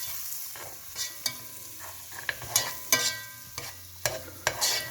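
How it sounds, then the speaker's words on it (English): Coriander sautés in a pan with a soft steady sizzle while a spoon stirs it, scraping and clinking in irregular taps, close and fairly quiet. "So the sauteing process has begun"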